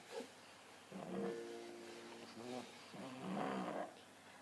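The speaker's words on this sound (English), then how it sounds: "you will have to excuse my dog. She is taking a nap on my leg, and she might be snoring" Soft, low snoring from a dog nearby, a few slow rasping breaths in a gentle rhythm, fairly quiet.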